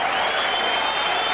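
A boxing arena crowd at a heavyweight bout in Berlin applauds in a sustained, dense wash of clapping, loud and steady throughout.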